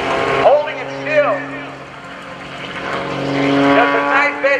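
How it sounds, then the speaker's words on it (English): Aerobatic propeller airplane tumbling at a Navy airshow, its engine drone wavering and rising in pitch as it spirals, loud and sustained under a commentator's voice over the loudspeakers. "he can tumble the airplane as he does right now"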